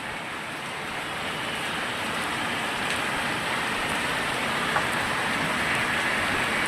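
Heavy rain comes down in Moti Gop, Gujarat, a thick, roaring hiss that swells slightly and then stays constant, with one faint tap partway through and no talking.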